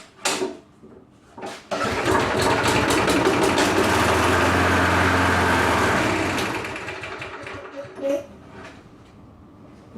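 A lawnmower engine catches on primer fuel and runs roughly for about four seconds before sputtering out and dying, with clanks and handling noises before and after.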